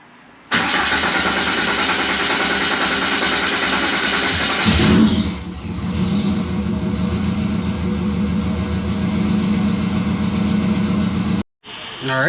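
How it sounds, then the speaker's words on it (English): Volkswagen Bug engine cranks and catches, then runs loud and steady with a rough air-cooled drone, revving as the car pulls away before briefly cutting out near the end. "let's get the Bug up and running again, take that for a spin"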